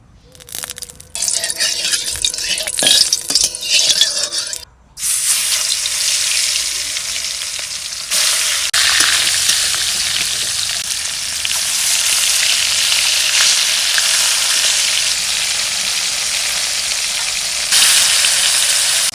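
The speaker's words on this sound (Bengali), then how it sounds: "কড়াই গরম হয়ে গেছে আমি এদিকে তেল দিয়ে দেবো" Oil heats and fries in a hot wok, first with a few clanks and crackles, then a loud, continuous hiss of sizzling that carries on steadily at close range.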